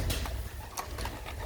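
A young racing pigeon cooing close by in a loft, in soft repeated bursts over a noisy, rustling background.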